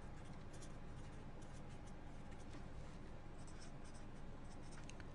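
Chalk or pen writing on a board during a university algorithms lecture: a steady scratching texture with short, brighter stroke bursts repeating irregularly over a low room hum, no speech.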